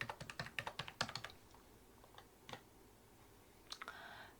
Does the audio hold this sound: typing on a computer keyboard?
yes